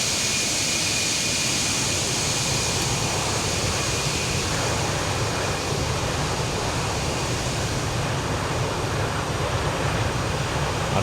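A steady, loud broadband roar of airliner engines inside a flight simulator on a VATSIM online session, with a faint high whine sitting over it, running constant and unbroken with no talk.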